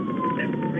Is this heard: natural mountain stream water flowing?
no